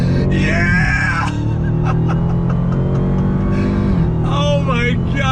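A 2020 Dodge Charger Hellcat Widebody's supercharged engine is pushed to full throttle, its loud roar rising and shifting over a few seconds, with a person whooping and talking over it.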